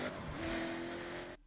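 A video game car cruises along a road, its engine a steady sustained drone that holds at an even level and then cuts off abruptly near the end.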